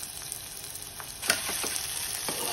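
Chopped onion with crushed ginger and garlic fries in a pan, a soft steady sizzle with a few scraping stirs and light clicks, close and fairly quiet, no talking.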